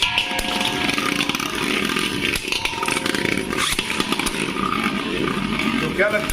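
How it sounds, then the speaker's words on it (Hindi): Beyblade tops, custom combinations built without their layers, spin hard inside a stadium in a triple threat battle, making a continuous loud whirring, grinding buzz like a small engine, with excited talk running over it. "भाई ये स्टेडियम में क्या मौत का कुआं, जिसमें बाइक की तरह घूम रहे हैं ये बेबलेट"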